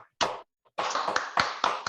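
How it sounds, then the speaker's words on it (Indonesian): Students clapping in an Indonesian classroom, a short burst, a brief pause, then a run of uneven claps with a few sharper accented hits, close and fairly clear. "tepuk tangan untuk Dwi Ayu ya."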